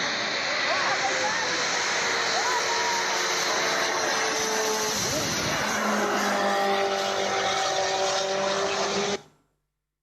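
An old Formula 1 car races a jet-powered flyboard, giving a steady high-pitched engine and turbine roar with rising and falling tones. It carries on loud for about nine seconds under light talk and then cuts off.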